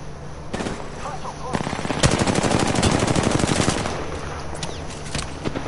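Gunfire in Apex Legends, sustained rapid machine-gun bursts that are loud and close, building to dense continuous fire in the middle, with a voice briefly heard under the shooting.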